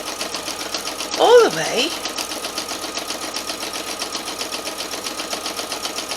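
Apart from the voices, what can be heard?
sewing machine sewing table runner fabric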